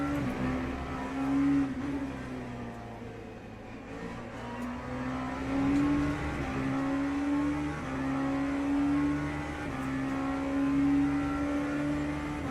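An LMP3 race car engine in the Le Mans Ultimate racing game drones steadily, its pitch rising and falling in repeated surges as the car accelerates and shifts, with no talking.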